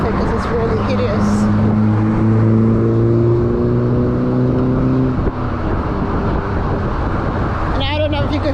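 Steady, loud road traffic rumble with engine drone and sustained humming tones, as if heard from an e-bike riding in traffic, with a brief higher whine near the end.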